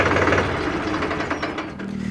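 Mahindra 275 DI TU PP tractor engine running, a steady, rough, knocking diesel chug heard close and loud, with an even pulsing rhythm and no voices over it.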